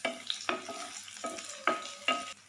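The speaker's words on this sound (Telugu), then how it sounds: "కొద్దిగా కరివేపాకును కూడా మంచిగా ఒకసారి వేయించండి" Curry leaves frying in a pan for a cassava (tapioca) stir-fry, with several bursts of crackling sizzle and stirring scrapes recurring about every half second, close and moderately loud, no talk.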